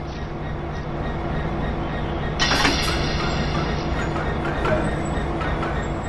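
Diesel locomotive from the Classic Workhorses route in Train Sim World 2020, a steady loud engine drone with rumbling rail noise and a brief hissing burst partway through, no talking.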